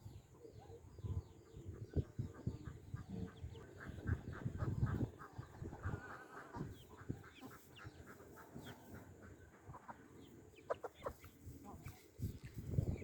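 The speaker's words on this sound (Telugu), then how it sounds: "అన్ని విధంగా కోళ్ళు ఎరుగు తింటున్నాయి." Hens clucking while pecking at grain scattered among fresh paddy straw in a village yard, a steady busy chatter of several birds close by with scattered louder calls and a voice talking faintly underneath.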